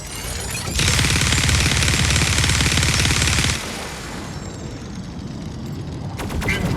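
A dual minigun firing in a video game, a loud, dense, continuous roar of rapid shots lasting a few seconds before cutting off, followed by quieter game ambience and a short mechanical whir.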